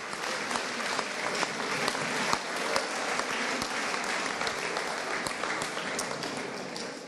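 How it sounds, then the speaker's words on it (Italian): Applause at an outdoor sports festival for the Riva team, a broad crowd clapping steadily and loudly throughout, with sharper individual claps standing out in the wash. "allora un applauso a... Forza Riva!"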